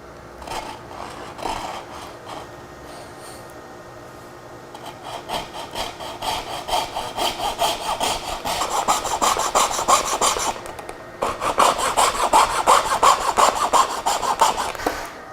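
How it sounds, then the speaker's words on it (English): A handsaw cuts wood trim against a miter used as a guide, producing close, rhythmic back-and-forth rasping strokes that start lightly and grow louder and faster, with a brief pause before finishing. "I can use this miter right here as a guide to cut this"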